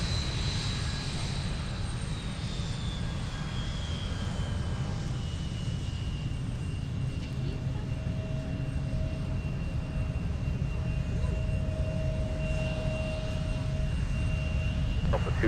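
A jet airliner takes off at Minneapolis–Saint Paul airport at night, its engines a steady, broad roar held at a distance with a thin whine gliding across it.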